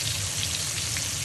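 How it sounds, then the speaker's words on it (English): Fish frying in a pan for a fish curry, giving a steady, dense crackle and sizzle of hot oil that stays close and even throughout, with no talking. "we're gonna let these guys fry on both sides, nice and brown"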